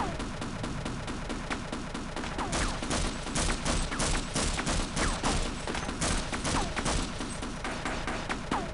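A tank in the video game Half-Life fires as a dense, continuous barrage of rapid gunfire bursts, loud and relentless throughout with no pause.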